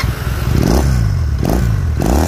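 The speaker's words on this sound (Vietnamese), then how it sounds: "bây giờ mình sẽ test máy cho anh em mình nghe thử này" An imported Honda motorcycle with a twin-carburettor engine idles close by, its steady low exhaust rumble swelling in short throttle blips roughly every second.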